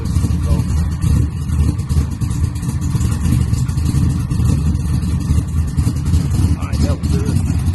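A box Chevy with a brand new all-aluminum exhaust and mufflers rumbles with a steady, loud low-end engine drone and light revving throughout, close by, with some talk mixed in.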